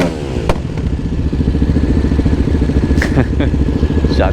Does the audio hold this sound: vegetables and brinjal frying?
no